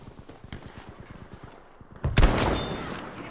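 Rapid bursts of Battlefield V gunfire crackle in quick succession, then a louder blast and sustained roar of explosive noise take over for the final second.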